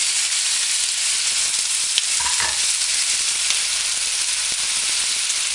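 Artichokes frying in a pan with garlic and oil, a steady close broadband sizzle with a few brief clinks of stirring, no voices.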